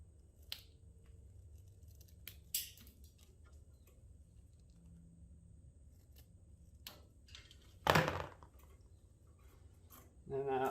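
Wire strippers cutting and stripping wires on the starter of an Allis Chalmers D14 tractor, heard as a few sharp, close snips and clicks scattered over a quiet shop background, one especially loud cut near the end.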